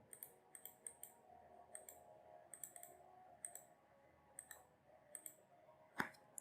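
Computer mouse clicks come quietly and in quick succession at a desk while someone sets up a Facebook Ads lookalike audience, with a single louder knock near the end.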